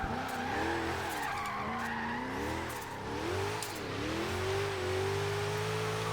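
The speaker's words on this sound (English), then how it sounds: "I just put my foot down and I get wheel spin" A drift-built Jeep in the racing game Forza Horizon 3 on low-grip tires spins its wheels, with a wailing, pitch-shifting engine rev and tire squeal skidding continuously throughout, loud and close.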